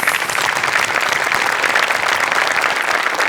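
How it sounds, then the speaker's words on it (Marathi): Studio audience applauding on a Marathi comedy show stage, in honour of ambulance drivers and staff; steady, dense clapping fills the whole stretch at an even level with no voices over it. "त्यांच्यासाठी आपण टाळ्या वाजवूया"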